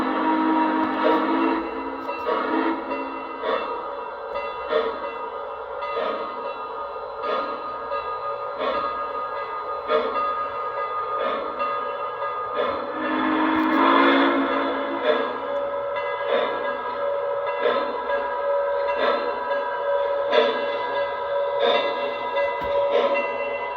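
A train underway produces a steady, loud rolling rumble with sustained tonal bands and a regular rhythm of wheel clacks, running continuously with no talking.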